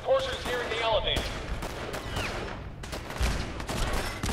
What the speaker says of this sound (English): There is a firefight.